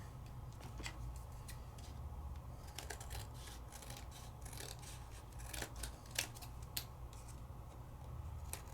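Scissors trim a black Sizzix cardstock card base, making quiet crisp snips and clicks at an uneven pace over a low steady hum, very faint and close.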